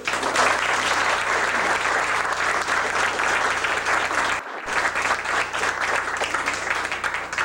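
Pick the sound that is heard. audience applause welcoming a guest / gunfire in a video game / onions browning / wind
audience applause welcoming a guest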